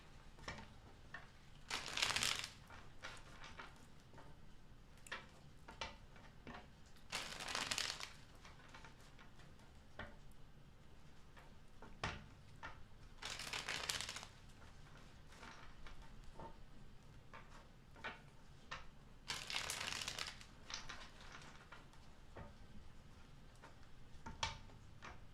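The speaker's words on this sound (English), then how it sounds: "2 more shuffles." Tarot cards shuffled by hand in a reading, four separate bursts of riffling and slapping card noise spaced several seconds apart, close and moderately loud with quiet handling between.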